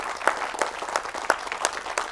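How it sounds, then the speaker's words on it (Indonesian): Studio audience applause on a televised Indonesian religious program, a brisk stretch of many hands clapping with sharp, irregular peaks and no voices on top. "Tepuk tangan buat kawan-kawan sekalian."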